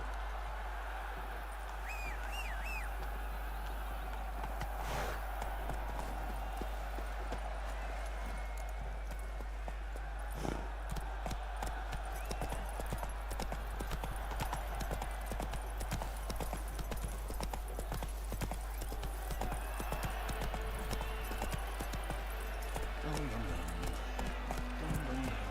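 Horse hooves trot steadily in The Witcher 3, with continuous clip-clop over ambient game background and occasional birdsong. Voices speak over the hoofbeats at times.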